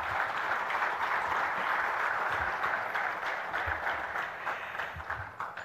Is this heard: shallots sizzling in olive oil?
no